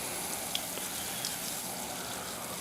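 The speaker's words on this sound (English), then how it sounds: "I just want to drench it, because I want it to soak up" Water pours steadily onto potting soil planted with Swiss chard, a soft continuous splashing hiss that soaks the soil, close and fairly even with a couple of small drips.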